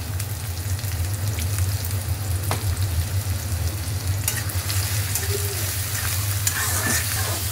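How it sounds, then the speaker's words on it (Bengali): Sliced onions with bay leaf fry in hot oil in a pan and are stirred, giving a steady close sizzle with occasional scraping clicks of the spoon. "এটা একটু ভাজা ভাজা করে নিব।"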